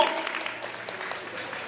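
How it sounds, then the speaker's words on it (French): Brief applause from a convention crowd at a Power Rangers panel in Paris, a short burst of steady clapping at moderate level. "On applaudit"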